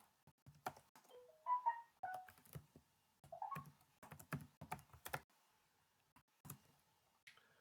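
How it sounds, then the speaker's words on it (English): Typing on a computer keyboard while entering code, a quiet, close run of irregular key clicks in bursts with short pauses. "this is going to be a lot of typing here"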